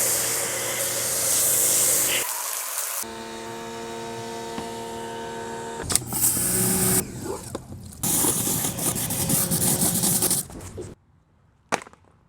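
An AVA electric pressure washer blasts water in loud, hissing bursts over a humming motor, pausing and restarting several times before cutting off near the end.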